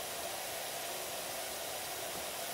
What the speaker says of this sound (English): the droning noise of the hose could easily just be listened to fall asleep on